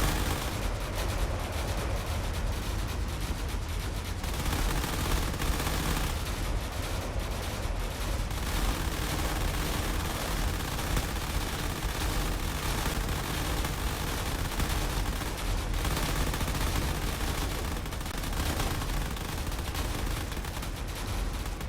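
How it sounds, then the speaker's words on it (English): Cannon fire crackles and booms without letup in a video game drone battle, a dense, loud barrage of shots mixed with heavy rumble that holds steady, with no voices over it. "A lot of cannon fire and a lot of torpedoes still on their way."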